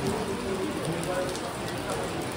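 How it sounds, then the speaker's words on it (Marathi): Heavy rain pours steadily near a mountain temple, a dense, constant hiss with no breaks under faint background talk. "पाऊस आला जोरात, आता खाली जाता येत नाही."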